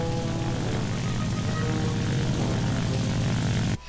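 Steady, loud propeller plane engine drone from a flight combat video game, holding an even pitch and level for several seconds before cutting off sharply near the end.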